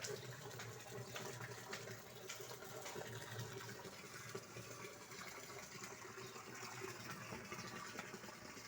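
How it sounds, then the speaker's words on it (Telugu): Overflow water from a rooftop tank pours steadily into a drum below in a small home garden, a continuous broadband splashing gush that stays even and fairly loud throughout, with no talking. "నా పైన ట్యాంకులో నీళ్లు నిండిపోతే ఇట్లా కింద డ్రమ్ము పెట్టుకొని వేస్ట్ అవ్వకుండా ఆ డ్రమ్ములోకి పడేటట్టు పెట్టుకున్నాను"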